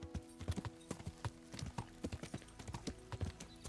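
Rapid clip-clopping horse hooves trot along steadily in the video game Kingdom Come: Deliverance, close and clear, with a faint game-like ambience underneath.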